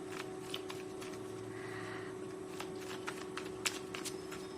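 Oracle cards shuffled in steady, soft riffling bursts with sharp flicks and snaps, close and fairly quiet over a constant low hum, with no talking.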